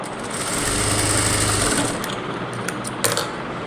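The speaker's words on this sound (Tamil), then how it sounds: "அடுத்தது அது மேலே இன்னொரு தையல் போடுறோம்" A sewing machine stitching a dart on a blouse gives a close, rapid, rhythmic whirring run of about two seconds, then fades to a softer hum with a couple of sharp clicks.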